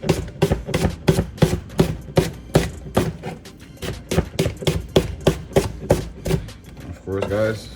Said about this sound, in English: We're gonna use half this onion.